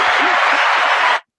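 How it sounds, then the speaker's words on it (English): A studio audience gives a round of applause for a guest on a talk show, a dense steady wash of clapping that holds at full strength for just over a second before cutting off abruptly. "round of applause for you there"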